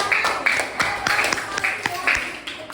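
A classroom of pupils clapping their hands together, a steady run of brisk claps sounding close and fairly loud, with murmured voices underneath.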